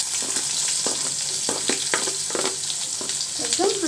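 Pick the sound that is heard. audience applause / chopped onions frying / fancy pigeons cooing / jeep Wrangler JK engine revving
chopped onions frying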